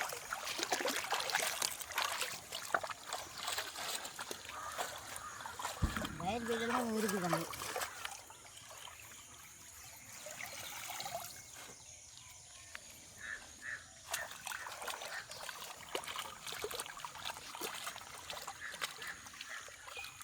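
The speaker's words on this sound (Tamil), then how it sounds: "வாய்க்காலில் வந்து நல்ல தண்ணி வாயுது." Water runs through a village irrigation canal where greens are being washed, a close trickling and splashing that goes on steadily, with a brief whistle-like sound partway through and people talking over parts of it.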